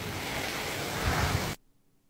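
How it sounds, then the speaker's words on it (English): Rain and ice hail pelting down outdoors, a dense, loud, steady hiss and patter with heavier bursts, which cuts off abruptly near the end. "Rain and ice!"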